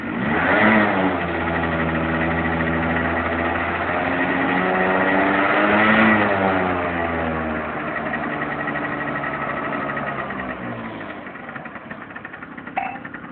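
A car engine revs up and down, the pitch climbing and falling, then it settles toward a steadier rumble near the end.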